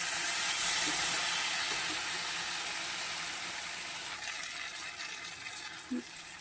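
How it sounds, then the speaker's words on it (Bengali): Water poured into a pan of fried spice paste for a thin rohu fish curry with taro and ridge gourd, giving a steady, loud hissing gush that continues throughout and eases slightly toward the end. "এরপর এর মধ্যে আমি পরিমাণ মতন জল ঢেলে দেবো"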